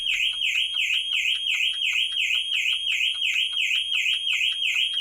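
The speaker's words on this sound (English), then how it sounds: "it will not cancel until the alarm has sounded for at least 5 seconds" The alarm on a Jaguar XK X150 sounds loud and close, a rapid repeating electronic warble that pulses evenly and without a break.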